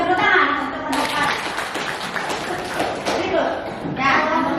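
Applause from children in an Indonesian primary classroom during a lesson on diversity, a steady burst of many small hands clapping with children's voices mixed in, fading and then swelling again near the end.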